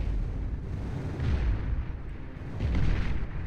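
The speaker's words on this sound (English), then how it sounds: "The Cerberus cannon on top of the Tyrannus firing away at this Vanguard right now." The Cerberus cannon mounted on a Tyrannus unit fires high-arcing shells in the real-time strategy game Beyond All Reason, giving deep, booming artillery blasts that swell and roll in a few heavy waves over a rumbling low background.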